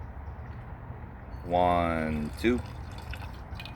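A couple ounces of rum pour into a cocktail glass, a short liquid gurgle close by over steady background hiss, with someone briefly speaking.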